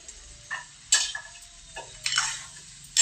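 Cauliflower florets tipped into a pan of frying cabbage-potato curry, giving short bursts of sizzling and scraping stirs at an uneven rhythm, with quiet gaps in between and no talking.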